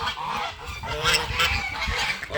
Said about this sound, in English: Those two geese they haven't fully integrated yet with these geese.